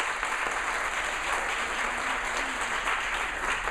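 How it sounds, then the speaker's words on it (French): Applause from a conference audience greeting three speakers at a round-table on public relations and events, steady dense clapping sustained throughout, close and moderately loud with no voices. "voici nos 3 fabuleux speakers qu'on applaudit et qu'on encourage"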